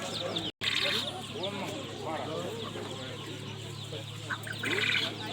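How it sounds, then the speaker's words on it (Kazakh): Roosters and hens crowd a busy livestock bazaar, with clucking and squawking close by, overlapping loosely against a steady background of market chatter and people talking. "Қораз, үлкен қораздар."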